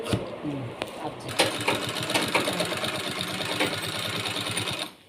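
A sewing machine stitches a fabric lunch bag and its handles, running with a steady, close mechanical whir for about five seconds while a voice speaks over it, then stopping abruptly.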